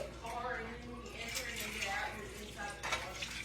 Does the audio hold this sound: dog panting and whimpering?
no